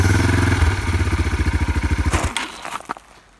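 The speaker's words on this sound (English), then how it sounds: "I let go of the clutch too fast and I didn't give it enough gas, so we stalled." A dirt bike engine thumps in rapid rhythmic pulses that slow and sputter, then cut out abruptly as the clutch is released too fast, ending in a few clanks and near silence.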